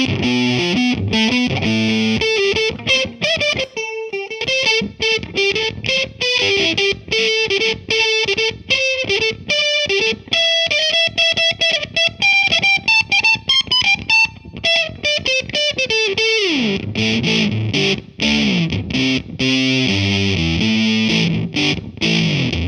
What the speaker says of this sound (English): using a ton of fuzz can be really fun too